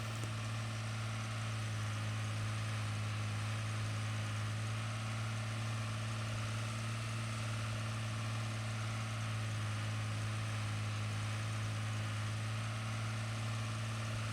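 Steady low engine drone of a John Deere 4955 tractor driving across a farmyard in Farming Simulator 15, a constant mid-low hum with strong tonal bands, continuous and unchanging throughout with no talking.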